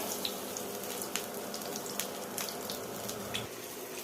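Mustard flower fritters frying in shallow oil give a steady, close hiss with faint crackles and pops running continuously.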